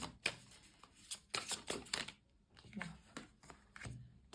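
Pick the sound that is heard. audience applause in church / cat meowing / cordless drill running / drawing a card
drawing a card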